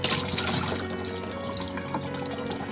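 Water runs steadily through a feeding tube with a continuous close rushing, splashing flow and no pauses or talking.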